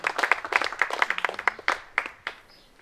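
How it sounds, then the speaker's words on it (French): A festival audience at a speech event gives a short burst of applause for the translator, scattered claps that thin out to a few isolated ones within about three seconds. "applaudissements pour Tom s'il vous plaît"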